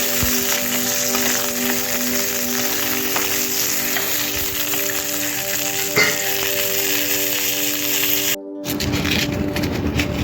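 A tomato roasts in a kadhai over a low flame, crackling and sizzling steadily up close with occasional sharp pops, loud and continuous, broken by a brief cut near the end, with no voices.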